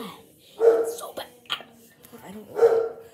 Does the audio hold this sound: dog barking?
yes